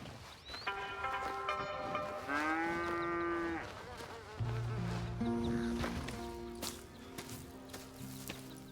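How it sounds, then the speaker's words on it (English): Cows mooing in the Red Dead Redemption 2 video game, a few long, drawn-out lowing calls one after another, fairly close, with a faint insect-like buzz running underneath. "Here's the cows."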